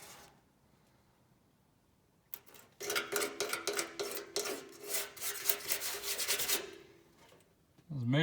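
A metal scraper rasps repeatedly across an identification plate on an old International Loadstar truck fuel tank. The strokes are harsh, close and rhythmic, lasting about four seconds after a quiet start.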